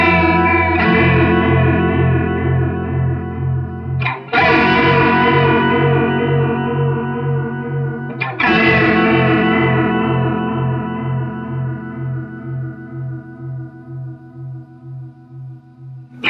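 A Boss CE-2w Waza Craft chorus pedal in its middle mode with the knobs maxed, colouring a guitar: three strummed chords ring out one after another, each sustaining with a thick, pulsing warble as it slowly fades.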